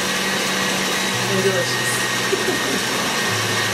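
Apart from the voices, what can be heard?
electric mixer beating egg and egg yolk until creamy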